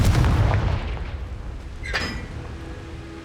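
The Confringo explosive spell goes off in Hogwarts Legacy, a deep booming blast that rumbles and fades, followed by a short bright magical crackle, loud and close.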